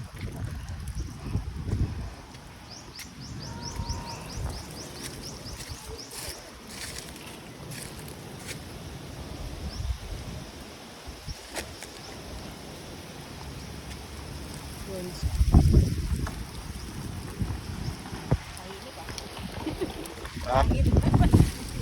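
Wind buffets the microphone in low rumbling gusts, strongest near the start and toward the end, with faint outdoor background and no talk.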